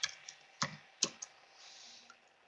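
A few scattered, faint keystrokes on a computer keyboard, sparse and irregular clicks with no talk.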